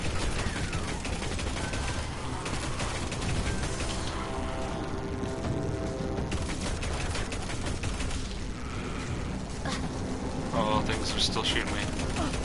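Enemy gunfire in the video game Destiny: Rise of Iron, dense rattling volleys blended with a steady roar of game effects, continuous and loud, with a player's voice mixed in.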